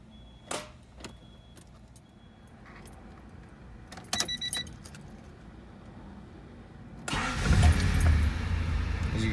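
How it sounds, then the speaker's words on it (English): A 1995 Honda Civic starting after a dead-battery fix: keys jangle and clicks come first, then the engine cranks and catches into a loud, close idle in the final seconds. "As you guys can see, my car starts right up."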